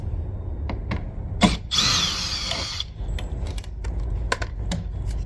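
A power drill drives self-tapping screws into fiberglass in a repair job, with a short whirring burst followed by scattered clicks, taps and handling noises, close and fairly loud.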